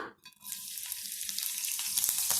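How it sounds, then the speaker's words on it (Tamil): Green chillies frying in about two teaspoons of oil on a hot dosa griddle: a quick hiss that swells into a steady, close, loud sizzle with faint crackles, and no voices. "தோசை கல்லுல 2 டீஸ்பூன் எண்ணெய் விட்டுக்கலாம்."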